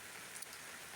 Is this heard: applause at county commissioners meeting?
no